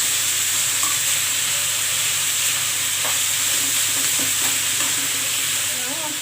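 Beef for macaroni bechamel frying loudly in a pan, a dense constant sizzling hiss held at a steady level throughout, with faint scrapes and knocks of a spoon stirring it, close up and with no talk.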